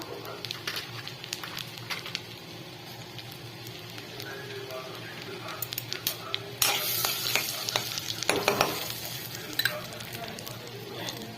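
Bay leaf and cumin tempering in hot oil in a pan for pav bhaji, a crackly sizzle that swells sharply partway through, with spoon stirring and someone talking over it.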